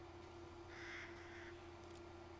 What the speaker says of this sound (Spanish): Pájaro de los cojones.